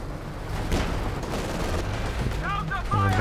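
Tank shells hit and bounce off armor in a Company of Heroes 2 match, heard as heavy booming impacts and rumbling battle noise, with a voice breaking in briefly toward the end.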